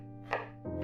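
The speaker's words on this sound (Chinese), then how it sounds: "先把尖切成丝" A knife slices a small red chili into strips on a cutting board, giving two quick, crisp chops in close succession, near and clear against a faint steady hum.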